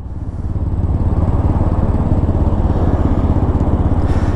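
A Honda Ruckus scooter's small engine running steadily while riding, a close, loud and even buzzing drone with a fast regular pulse, no talk.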